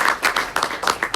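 Brief applause at a school board meeting, a handful of distinct claps in a quick irregular rhythm from a small nearby group, moderately loud.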